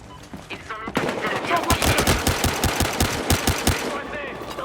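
Rapid, loud bursts of heavy pistol gunfire in the multiplayer video game Battlefield Hardline, a string of evenly spaced close shots following a short quieter lead-in.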